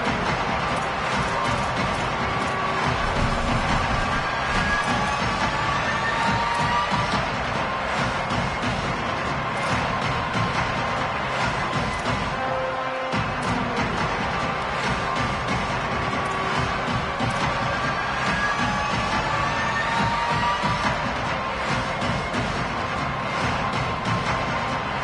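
Loud, dense college football stadium crowd roaring and cheering steadily throughout a tense third down for the Gators late in a game, a continuous wall of noise with no quieter breaks.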